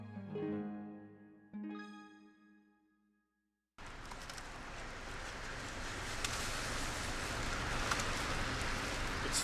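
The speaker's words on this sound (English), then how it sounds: "it's raining outside" Steady rain falls outside on a 41-degree day, a dense even hiss that fills the second half after a few seconds of quieter sound and near silence.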